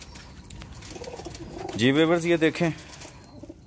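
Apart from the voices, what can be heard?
pigeons cooing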